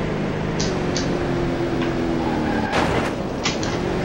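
A Corvette in a racing video game revs steadily through a hot lap, with the engine drone continuous and loud and brief tire squeals from skidding through turns.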